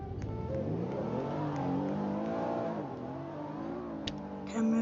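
A truck engine revs in a video game, its tone climbing and sagging in waves as the throttle works up and down, fairly close and steady throughout, with a brief change in pitch near the end.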